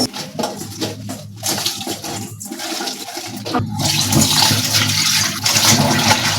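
Water gushes and splashes as koi fish are rinsed with salt in a kitchen, loud running water with intermittent breaks and sloshing handling, growing steadier and fuller toward the end.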